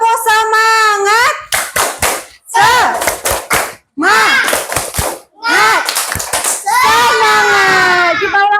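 A group of children performs a rhythmic spirit clap, bursts of loud patterned clapping alternating with a leader's voice and children's shouted responses, close and energetic.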